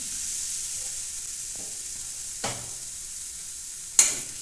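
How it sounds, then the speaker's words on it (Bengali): Semolina frying in vanaspati ghee for a chana dal halwa gives a steady, close hiss of sizzling, broken by two sharp scrapes of a spoon stirring the pan. "এখন এতে দিয়ে দিচ্ছি এই কটোরাটার হাফ কটোরা সুজি নিয়েছি এটা এখন আমি দিয়ে দিচ্ছি"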